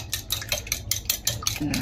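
Eggs beaten plain, without salt, in a bowl for a simple Roti John: quick, regular clinks of a utensil against the bowl, about five strikes a second, close and fairly loud.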